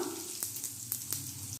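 Asafoetida tempered in hot oil alongside mustard seeds, urad dal and chana dal for aval upma, giving a steady close sizzle broken by a few sharp crackles and pops, with no talking.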